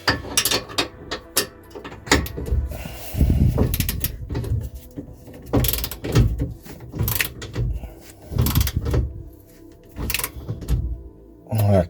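A spanner tightens bolts by hand on the aluminium headlight casting of a Reliant Supervan under restoration, producing close, irregular metallic clanks, scrapes and ratcheting knocks at a fairly loud level.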